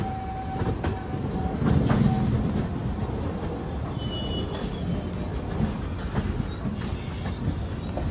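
Rail traffic at Kalka station, where the narrow-gauge toy train runs, sounds as a steady rumbling clatter with brief metallic wheel squeals and clicks, moderately close and with no voices.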